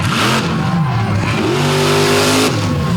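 The Crush Station monster truck's engine roars and revs hard during a wheelie attempt on a slick, freshly watered track at a night competition in Benson, North Carolina. It is loud and continuous, with the pitch swelling and falling as the throttle is worked.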